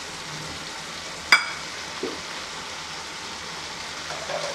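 Tomato added to a frying pan for garlic chicken, giving a sharp crackling hiss as it lands, then a steady low sizzle with a few small pops, close and alone.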